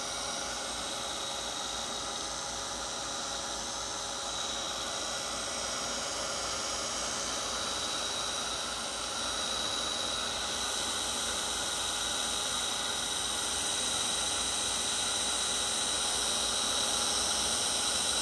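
A Ranger heat tool blows steadily over acrylic paint on a textured art journal page, a constant loud whirring hiss with no talking that holds unchanged from start to finish.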